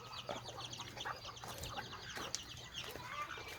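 Farmyard chickens cluck softly and repeatedly at close range, with scattered short calls overlapping a low steady background hum and no one talking.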